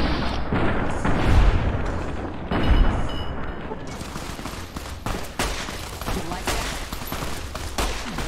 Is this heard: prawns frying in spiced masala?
no